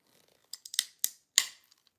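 Scissors cut material in half in a glass studio set in a 155-year-old church, making a quick run of four or five crisp, close snips in otherwise near silence.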